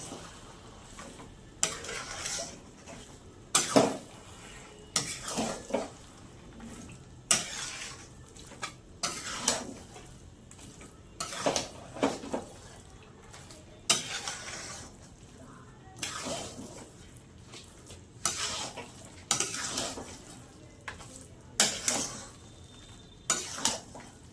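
Muri ghonto being stirred with jaggery in a pan, a spoon scraping and clinking against the metal in repeated sharp strokes over a soft sizzle, close and fairly loud, with no talking.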